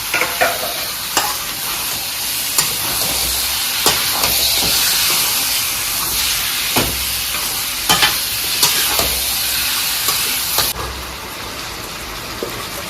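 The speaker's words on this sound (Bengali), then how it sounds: "এইখিনি মাংসখিনি মই এতিয়া ইয়াতে দি দিম আৰু ভাজি ল'ম" Mutton fries in an uncovered pan for a restaurant-style curry, a constant loud sizzle and hiss broken by scattered clinks and scrapes of stirring, with no voices.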